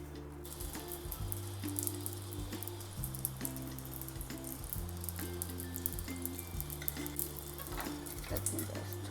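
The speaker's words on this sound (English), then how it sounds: "I will pan fry them" Rice paper dumplings, some filled with cheese, sizzle and fry steadily in a hot pan at home, a continuous close crackle with rising tonal notes from the kitchen running underneath throughout.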